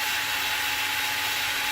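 A Parkside cordless drill spins a wire brush attachment against a surface, producing a continuous, loud hissing scrub with no pauses throughout.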